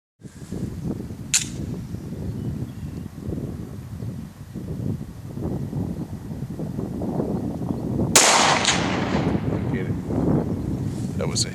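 An FN Five-seveN pistol fires 40-grain 5.7x28 rounds at a steel silhouette target 100 yards away outdoors: two sharp, separate shots, one early and one several seconds later, over steady wind noise.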